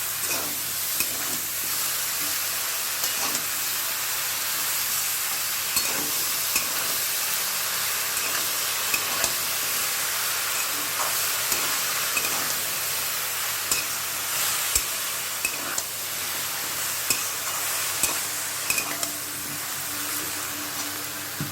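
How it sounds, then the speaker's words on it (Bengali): Vegetables fry with panch phoron in a pan, a steady soft sizzle with occasional scraping and clicking as they are stirred, fairly quiet and without talk. "পাঁচফোড়ন দিয়ে দেখলেন আমি সবজিগুলো ভেজে নিলাম"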